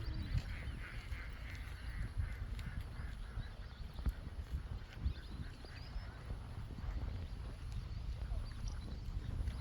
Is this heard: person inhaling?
no